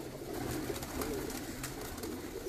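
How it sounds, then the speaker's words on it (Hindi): Pigeons cooing steadily on a rooftop in a continuous low murmur, with a few brief rustles and flutters over a constant outdoor background; no one speaks. "5 कबूतर बैठे हैं जनाब, 3 रहने"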